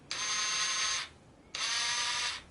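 A cordless impact driver whirs in two steady bursts at moderate speed, each about a second long, separated by a brief pause.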